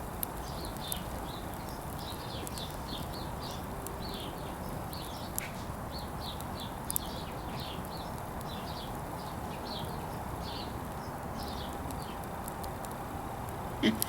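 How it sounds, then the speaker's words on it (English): Birds chirp and twitter steadily outdoors at a festival marking Imbolc, a busy chorus of short calls running through the whole stretch over a soft background hiss. "Oh, now I think you can hear the birds."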